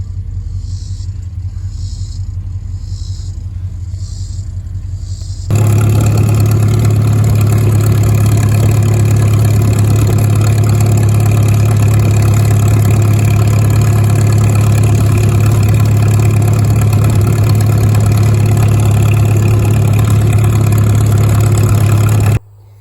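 A tractor engine idles with a steady, droning rumble that grows markedly louder and fuller partway through, then holds evenly until it drops away at the very end.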